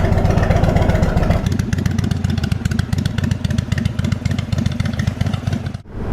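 Engine of a rebuilt 2022 Indian Super Chief Limited motorcycle under way on a ride, a loud steady low rumble with a shift in tone partway through and a brief dip near the end, no talking.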